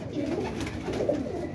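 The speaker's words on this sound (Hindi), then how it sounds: "इन्हों कहते जेठ की मार खाने वाला वो कबूतर है" A pigeon kept by a fancier coos close by in low, throaty, rolling phrases, repeating steadily over faint background hiss.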